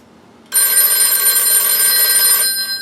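The bells of a rebuilt 1940 Western Electric 302 rotary telephone, armature readjusted, ring loudly and continuously with a bright metallic jangle for about two seconds, then stop abruptly.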